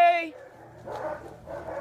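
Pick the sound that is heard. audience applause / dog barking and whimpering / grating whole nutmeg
dog barking and whimpering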